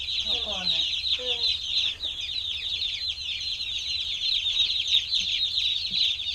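Newly arrived chicks peep in a dense, steady chorus that runs the whole time. A few lower clucking calls rise near the start, and faint voices sit underneath.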